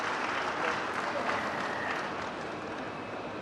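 Conference audience at a business summit in Visakhapatnam claps in sustained applause, dense and steady, gradually easing slightly toward the end, heard from within the hall.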